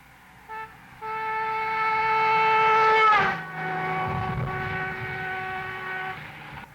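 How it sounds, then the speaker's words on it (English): A car on a highway sounds its horn as it approaches at 60 mph and passes close by, the sustained blare rising in loudness and then dropping sharply in pitch as it goes by, trailing off with road noise. "a car is approaching blowing its horn, as the car goes by, there is a sudden drop in pitch"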